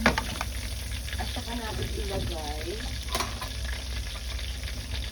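Chicken wings stirred and frying in melted butter in a pan, a close, continuous crackling sizzle with scraping stir strokes and a sharp clatter, under a brief spoken voice.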